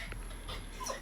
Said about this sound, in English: So this dog wants to come in the house so bad.